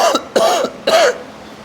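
Three sharp, raspy coughs, one after another with short pauses, close and fairly loud.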